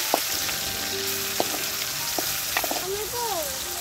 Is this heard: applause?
no